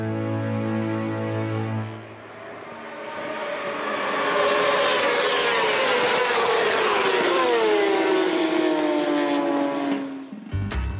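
Racing motorcycles on the Sportsland SUGO circuit, engines screaming as one passes close with a falling-pitch Doppler sweep, then more bikes roaring and fading, loud and continuous.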